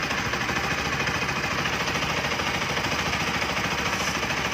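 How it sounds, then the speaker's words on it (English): A Bajaj Pulsar RS 200 motorcycle idles just after new iridium spark plugs are fitted, its single-cylinder engine thumping in a steady, close, even rhythm with no voices. "Okay, yeah, the bike started."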